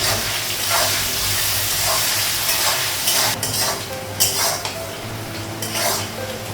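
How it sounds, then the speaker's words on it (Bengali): Onions frying in a pan in a home kitchen give a steady, close sizzle, with utensil scrapes and clinks from stirring breaking through at intervals. No one speaks. "পেঁয়াজটা অল্প ভেজে নেব"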